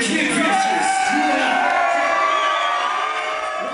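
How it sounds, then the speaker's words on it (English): Crowd cheering at a music video shoot, loud continuous whoops and shouts blending into a steady roar, with voices calling out over the din. "Crowd's loving it, they're getting ready, they're hyped for the video."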